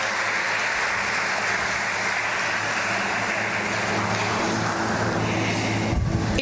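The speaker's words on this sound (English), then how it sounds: "Can we give ourselves a round of applause?" Audience applause at a volunteer organization's gathering, a dense steady clatter of many hands clapping that fills the room at moderate volume for several seconds without a break.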